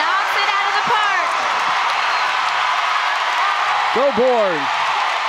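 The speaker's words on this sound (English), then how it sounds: "you hear the crowd" Crowd at a college gymnastics meet, Florida at Auburn, cheering and applauding after a floor routine's final double pike pass, a steady roar with scattered whoops beneath commentators talking throughout.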